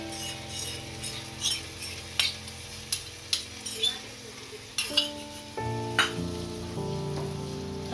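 Yogurt is stirred into okra curry in a pan, giving soft sizzling with a few distinct clinks and scrapes of a spoon against the metal, plus a low steady hum underneath.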